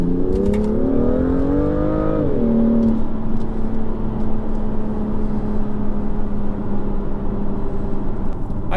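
A 2018 BMW M2 engine revs up in a rising sweep, then drops and settles into a steady droning cruise while driving, close and continuous with faint cabin noise.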